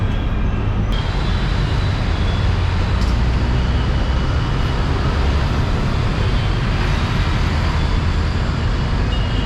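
An MTC city bus on the Tambaram to Thiruverkadu route pulls up at Ambal Nagar bus stop, with a steady, loud drone of engine and road noise filling the whole stretch and no voices.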